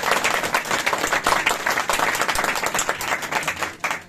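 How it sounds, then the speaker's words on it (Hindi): A church congregation applauding loudly, dense sustained clapping from many hands that fills the room for several seconds, with no voices over it. "जोरदार तालियां बजाएं।"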